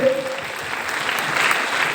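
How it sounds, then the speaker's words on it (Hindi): Audience at a DXN business meeting in a resort hall applauds loudly for a guest speaker, a short burst of steady, dense clapping with a brief voice at the very start. "एक जोरदार ताली होनी चाहिए उनके लिए"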